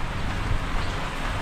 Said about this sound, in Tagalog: Hindi na ganong malakas pero umuulan pa rin, walang tigil ba.